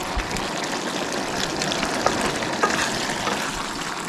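Ground sausage sizzles and fries steadily in a pan for a makeshift lasagna, with a dense, even crackle, an occasional light stir or scrape, and no talking.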